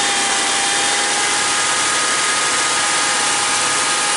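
A Buick Grand National engine idles high at about 2000 rpm instead of 700, with an unsteady throttle position and a no-power fault. It makes a steady, loud, continuous drone with no voices.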